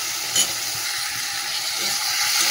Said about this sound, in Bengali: ভালো করে এবার মশলাটা কষানো হোক, তারপরে শাকটা দেবো